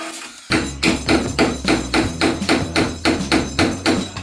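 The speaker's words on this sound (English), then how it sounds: "a simple solution here is to linish the head off and then punch them out with a drift" Repeated sharp hammer blows strike a drift to punch out stubborn screws from the engine block of an Aston Martin DB4 barn find. About nine loud, evenly spaced knocks ring out up close, with nothing else heard.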